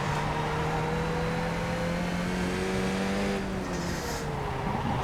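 A Skip Barber race car in the iRacing simulator accelerates in second gear on the Adelaide street circuit. Its engine drones steadily and climbs in pitch, then eases off near the end. There is no talk.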